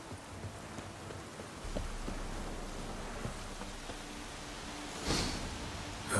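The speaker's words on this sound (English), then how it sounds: "Looks like rain." Steady rain hiss in The Witcher 3 game world, a constant broadband wash of moderate loudness with a brief louder swell near the end; no voices.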